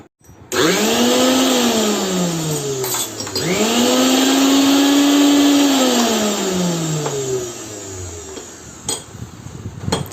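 A mixer grinder, repaired after an earth fault that tripped the ELCB, runs loudly on its own in two bursts, its motor whining up to speed and slowly winding down between them, with no one talking.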